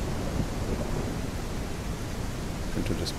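Steady rain and a low rumble of thunder in the survival game Mist Survival, a dense, even wash of noise at moderate level with no one talking over it.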